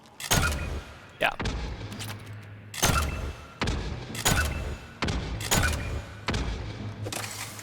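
Bursts from the Venom weapon in Mass Effect 3 come as sharp, heavy booming shots roughly every second, each one decaying quickly into a low rumble, loud and close with no talk over them.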